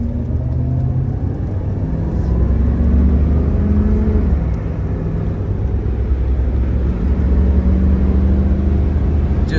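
A 1975 Chevy Monte Carlo driving down the road, with a steady, loud low engine rumble and road whir that runs continuously and evenly throughout, with no one speaking.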